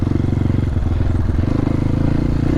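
MOTOPRO 300 RR Enduro motorcycle engine idling and running steadily nearby, a loud, continuous low mechanical drone with a fast, even pulsing throb and no voices.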